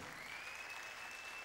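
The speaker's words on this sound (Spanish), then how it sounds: "dele un aplauso al Señor" Church congregation applauding during a Spanish-language sermon, a steady wash of many hands clapping at low level with a thin whistle-like tone running through, no speech.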